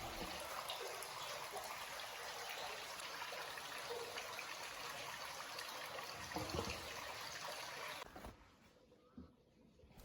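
Fresh water runs continuously through a flow-through catfish tank system and drains away, a steady hiss and trickle that drops off sharply near the end.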